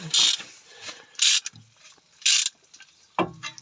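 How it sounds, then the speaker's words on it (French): A small ratchet wrench clicks in short bursts while someone refits the brakes on a Peugeot 325 TDS. Several separate quick ratcheting strokes sound close up, with pauses and light handling noises between them. "Petit cliquet, il est là."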